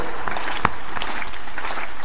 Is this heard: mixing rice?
no